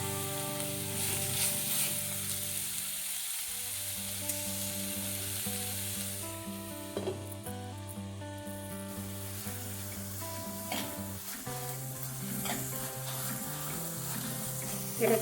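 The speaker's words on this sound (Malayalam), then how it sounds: "ഇത് നമുക്ക് കുറച്ച് നേരം വഴറ്റിയെടുക്കണം." Squid thoran sautés in a pan with salt, a steady close sizzle and crackle running throughout, with stirring scrapes and low background music underneath, no voices.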